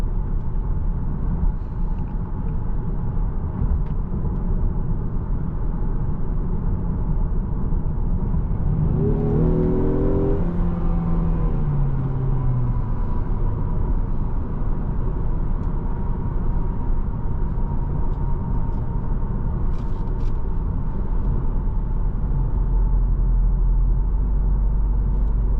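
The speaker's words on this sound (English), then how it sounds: "This thing's actually pretty quick. Very effortless acceleration." A 2024 Ford Mustang EcoBoost Premium with a 10-speed automatic accelerating from the cabin, a steady engine drone rising in pitch and then easing off, heard under constant road and wind noise.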